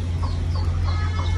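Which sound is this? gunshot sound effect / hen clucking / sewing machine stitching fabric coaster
hen clucking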